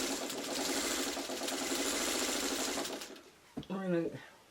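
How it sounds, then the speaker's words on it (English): A sewing machine stitches fabric triangles together for a traditional cactus pot quilt block, with a fast, steady mechanical chatter for about three seconds that stops abruptly before a voice speaks. "I'm going to sew the triangles together"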